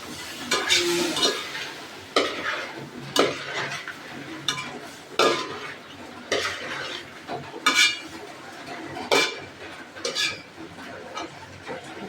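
Chicken coated in masala sizzles and fries in oil in a pot for a Palakkad-style chicken curry, with a steady hiss broken by repeated scrapes and clinks of a spoon against the pan, close and fairly loud.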